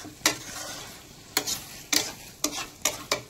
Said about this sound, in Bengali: দিয়ে চিকেনটা একটু ভালো করে কষে নেব